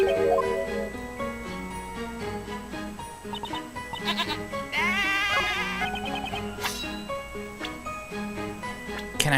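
A sheep bleats with a wavering cry in the Professor Layton vs Phoenix Wright video game, rising briefly over busy, continuous game music.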